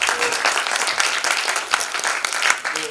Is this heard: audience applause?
yes